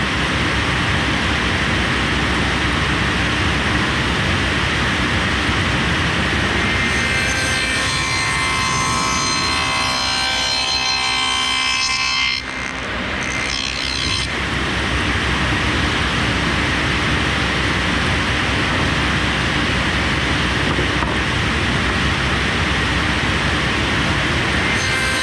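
A router or saw cutting a rabbet along the top of a small wooden cabinet, a loud continuous whining roar held for the whole stretch, briefly changing tone midway as the cut progresses.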